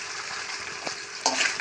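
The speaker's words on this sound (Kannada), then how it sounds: "ಟೊಮೊಟೊ ಸಾಸ್ ಹಾಕ್ಕೊಂಡು ಅದನ್ನು ಫ್ರೈ ಮಾಡ್ಕೊಳ್ಳಿ" Tomato sauce frying in a pan for chicken gobi, a steady close sizzle with soft stirring scrapes and a brief louder hiss near the end, no talking.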